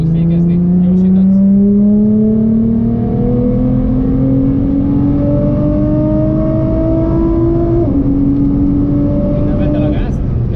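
A Nissan GT-R accelerates hard around the Hungaroring circuit, its engine note climbing steadily through a long pull with a gear change midway, loud and close from inside the car while an instructor talks over it.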